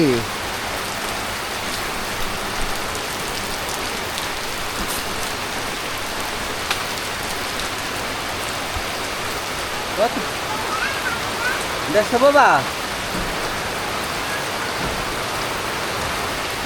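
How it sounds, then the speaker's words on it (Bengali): Heavy rain pours down in a steady, dense hiss for the whole stretch. A few brief spoken words come through near the end. "কত বৃষ্টি রে"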